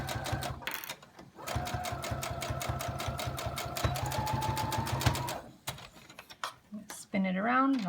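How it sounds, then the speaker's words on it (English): Sewing machine running a narrow 1/8-inch seam on a gathered fabric mask, a fast rhythmic chattering of stitches held for several seconds, close up, followed by brief handling noise and a short spoken remark. "we are going to sew 1/8 of an inch seam allowance right here, just to totally encase it"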